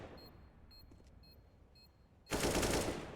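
AK rifle fire in a CS:GO match cuts in suddenly as a loud, dense burst of automatic gunfire, following quieter game ambience and faint beeps.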